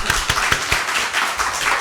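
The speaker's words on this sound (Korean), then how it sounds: "박수 한번 쳐줄까요?" A church congregation claps after children finish a prayer. Brisk, close hand claps start out crisp and rhythmic, then blur into denser, rougher applause.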